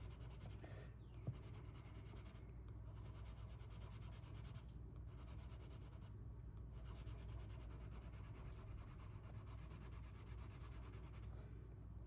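Colored pencil shading on paper, a soft continuous scratchy rubbing in repeated strokes with brief pauses between passes, faint and close, with no one talking.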